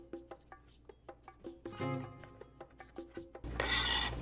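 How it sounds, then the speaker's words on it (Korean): A knife cuts through shrimp on a board in a run of about a dozen quick, evenly spaced, faint taps and rasps, followed by a louder scraping rustle at the end. "새우는 그래도 새우 모양이 살아있는 게 좋으니까 이렇게 반으로 썰어볼게요"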